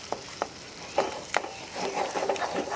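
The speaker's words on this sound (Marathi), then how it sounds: "आणि आता आपण हा छान परतून घेऊया" Khoa roasting in a little ghee in a pan, stirred with repeated close scraping strokes over a steady low sizzle.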